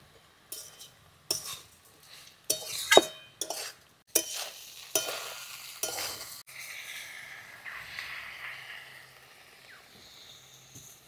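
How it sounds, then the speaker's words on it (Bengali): A ground spice paste with meat masala, cumin, chili powder, turmeric, salt and sugar is stirred in a pan for a prawn and banana flower dish, with clinking utensil scrapes and bursts of stirring over a soft sizzle that settles into gentle frying. "বাটা মশলাটা এবার দিয়ে দিচ্ছি।"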